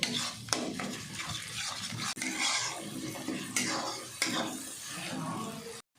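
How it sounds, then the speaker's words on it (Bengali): Spice masala for soybean kosha being stir-fried in a pan, a steady broadband sizzle broken by repeated scraping strokes of a spatula, fairly close and continuous with no voices. "মশলাটাকে ভালো করে কষিয়ে নিতে হবে।"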